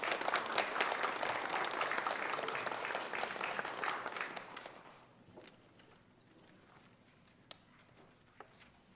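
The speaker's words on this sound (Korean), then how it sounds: "우리 박수로 환영하겠습니다." A church congregation at a Sunday service claps to welcome a pastor to the pulpit, dense, even applause filling the room for about five seconds before fading into quiet hall ambience with a couple of faint knocks.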